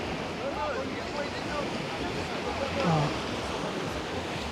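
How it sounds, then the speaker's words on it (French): Steady washing of waves from a passing boat's wake lapping against a riverbank shore at Huningue, France, broadband and continuous, with wind and faint distant voices mixed in. "on entend style des vagues, comme si c'était à la mer, à cause du bateau"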